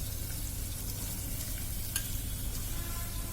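Chopped onions sizzle in hot oil in a pan while cooking a bottle gourd and moong dal curry, a steady close frying hiss with faint crackles and a brief clink, no voice.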